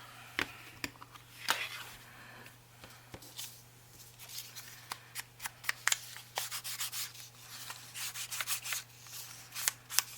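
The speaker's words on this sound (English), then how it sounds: "I'm going to ink these up real quick." Quiet, close soft rubbing and dabbing as an ink blending tool works ink onto paper strips, irregular scuffing strokes over a low steady hum, with no talking.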